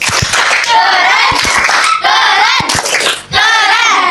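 Schoolchildren in a classroom performing a 'tepuk keren' clapping chant, loud sharp claps mixed with energetic chanting voices in a quick rhythm, with brief pauses between phrases.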